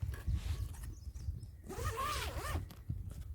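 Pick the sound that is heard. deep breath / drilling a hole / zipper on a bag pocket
zipper on a bag pocket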